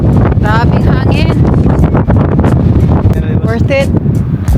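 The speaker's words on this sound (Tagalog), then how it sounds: "Grabing hangin." Strong wind buffets the microphone on a mountain near Hinton, roaring loudly and continuously in gusts, with people talking and exclaiming close by over the rumble.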